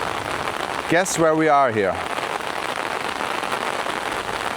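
Steady rain falls in Da Nang, a continuous hiss of drops on surfaces that carries on behind a man's brief spoken question near the start.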